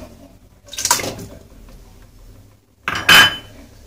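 Metal pot set down in a home kitchen with a clatter, then a second sharper clank of metal on metal a couple of seconds later as cooking begins for Moroccan harira, close and loud, no talking.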